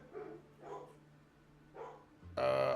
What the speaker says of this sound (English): I'm so glad my dogs love to bark.